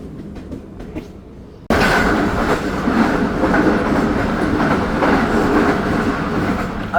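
The Zakariya Express, travelling from Rohri to Multan, runs on rails. A quieter stretch gives way abruptly to a loud, steady rumble with rhythmic clickety-clack from the wheels, continuing close and without voices.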